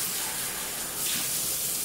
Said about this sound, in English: I'm gonna do a quick rinse of all these little cups